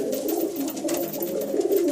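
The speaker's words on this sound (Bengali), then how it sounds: "এই যে দেখো পায়রাগুলো দেখো" Pigeons coo steadily and close by, a soft continuous throaty murmur from several birds with no talking.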